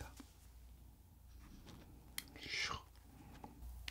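Crunchy bites into a Sungsimdang pollock roe baguette: close, quiet chewing with a sharper crackling crunch near the middle, over a soft low background hum.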